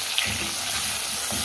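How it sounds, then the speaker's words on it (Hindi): Cubed tomatoes hit hot oil in a frying onion masala for tinda fry, giving a continuous, close, crackling sizzle with faint stirring. "इसमें चले जाएँगे टमाटर जो हमने क्यूब में कटे हुए रखे थे"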